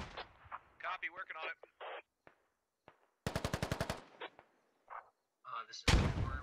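A burst of rapid machine-gun fire, then a sharp explosive blast near the end, amid radio-style voice chatter during a squad firefight in the video game Squad.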